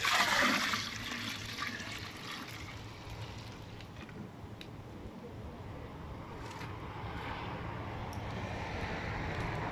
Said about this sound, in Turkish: şimdi kaynayan suyun içine döküyorum